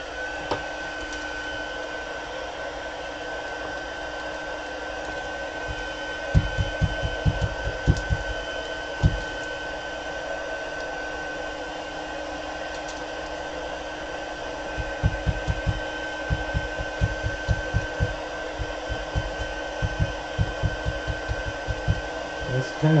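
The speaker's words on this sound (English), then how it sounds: "Bring in our heat tool." A heat tool blows hot air for embossing, a steady loud whirring fan hiss running the whole time, with intermittent clusters of light tapping and clicks over it.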